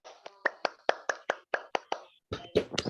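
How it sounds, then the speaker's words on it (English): Hand clapping from a small audience at an academic lecture on writing articles for international publications: about a dozen crisp, fairly regular claps close by, pausing briefly before a few more. "Give applause for his awesome presentation."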